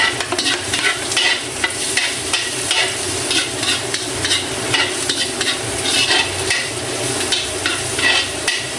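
Garlic frying in oil in a pan, a loud close sizzle with constant rapid stirring and scraping strokes running throughout without pause.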